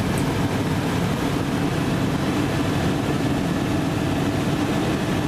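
A helicopter flying over the Mendenhall Glacier near Juneau, heard as a steady, loud, low engine and rotor drone with no break across the whole stretch and no voices.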